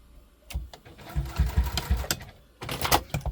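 Sewing machine stitching a tote bag seam in short, uneven bursts, with small thumps and fabric handling between them.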